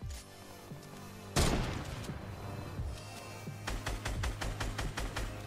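Sniper rifle shots in Fortnite, one loud sharp blast followed by a rapid run of several shorter gunshots, close and punchy over steady game background noise.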